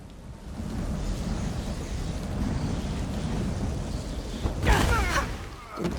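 A steady rumbling storm in The Elder Scrolls Online's Grahtwood, with wind and rain noise underneath, broken near the end by a sudden loud, crackling lightning strike that rings briefly before fading back into the drone; no one speaks.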